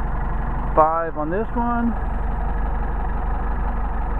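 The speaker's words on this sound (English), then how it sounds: "so I just jacked up the idle there" A Mercedes 190SL engine with Solex carburetors idles steadily with a low, even rumble and a faint rhythmic pulse throughout, while someone speaks briefly over it near the start.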